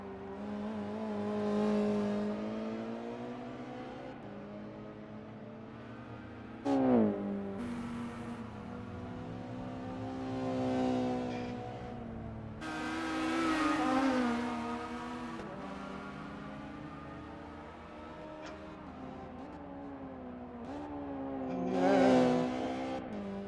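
A Porsche race car in a Super Touring racing game at Oran Park screams through its gears, the engine rising and falling in repeated revving sweeps between shifts, with a few sharp tire squeals and bumps, loud and continuous.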